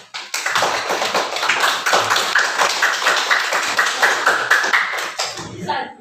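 Classroom applause for a student group that just presented, a dense patter of many hands clapping fairly close and steady for about six seconds, with a few voices mixed in.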